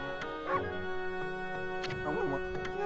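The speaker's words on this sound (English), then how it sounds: "But I know that bark anywhere." Dog barks from Ami in the Okami video game, a few sharp yips and bow-wows scattered over about three seconds, mixed with game music and a whimpering tone.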